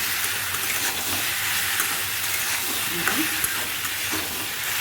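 Boiled potatoes go into a hot frying pan, giving a steady close-up sizzle and frying hiss with faint stirring scrapes and no talk.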